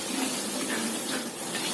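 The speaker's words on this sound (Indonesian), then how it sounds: "kita goreng yang selanjutnya" Sesame snack frying in hot oil, a steady dense sizzle and crackle close up, continuous with no voices.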